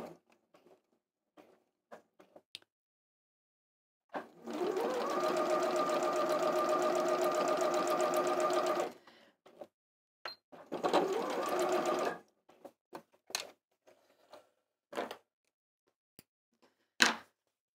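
A home sewing machine top stitches along the folded edge of fabric pieces for a retro backpack. It runs steadily up close for about five seconds, stops, then runs again in a shorter burst, with light handling clicks in between.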